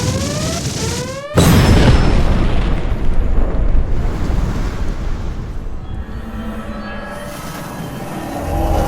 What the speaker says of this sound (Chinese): 元婴自爆程序启动